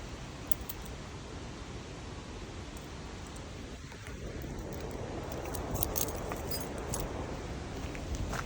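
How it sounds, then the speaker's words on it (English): Keys jangling and clinking while being clipped together on a swaying bridge above a waterfall, with a steady roar of rushing water beneath the small metallic rattles. "Let's connect our keys up here so we don't lose any of that."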